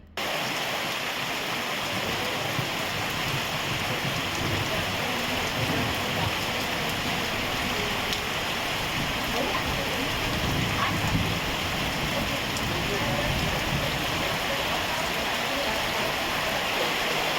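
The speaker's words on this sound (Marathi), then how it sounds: "एक तास झाला पाऊस असा कोसळतो आहे" Heavy monsoon rain pours steadily in a Konkan village during Ganpati festival, with a dense, even hiss that never lets up, continuous and close throughout.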